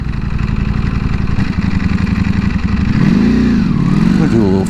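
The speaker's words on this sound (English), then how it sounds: "that assistance acceleration on the Ducati as you're coming away from a stop" A 2018 Ducati V4S motorcycle pulls away from a stop, its engine loud and close with a steady pulsing roar that rises in pitch as it accelerates and revs through gears.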